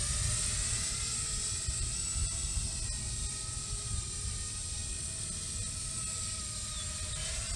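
A small drone on iFlight Xing Nano 1206 4500kv brushless motors hovers at low throttle, giving a steady high-pitched whine with a constant airy hiss throughout, close by and unbroken.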